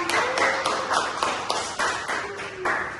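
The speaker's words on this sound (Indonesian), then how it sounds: "Tepuk tangan teman-teman." Classmates in a madrasah classroom clapping their hands in quick rhythmic bursts, close and fairly loud, with sharp claps repeating at roughly even intervals and a faint tone underneath.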